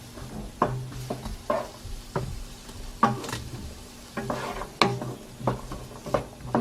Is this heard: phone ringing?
no